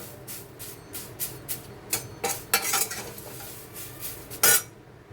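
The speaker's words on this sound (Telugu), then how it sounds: "ఆకులన్నీ బాగా వేగిపోయాయి. చూసారా, గల సౌండ్ వస్తుంది" Drumstick leaves and curry leaves roasting dry in a pan, stirred with a metal spoon: a series of sharp scraping clanks and rustling crackles in an irregular rhythm, close and loud, with no talk.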